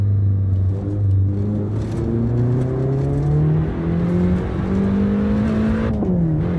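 A racing video game car engine revs loud and close, driven with a Thrustmaster TH8A gear shifter. Its pitch climbs steadily through the gears, with a brief drop at a shift near the end, and no talking.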